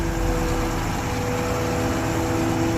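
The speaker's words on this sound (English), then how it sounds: "You can hear the concrete sliding through the pipes over the motor." A Sany 47M concrete pump truck pumps concrete at low RPM, its engine running as a steady, close mechanical hum with a faint continuous scraping flow of concrete through the pipes.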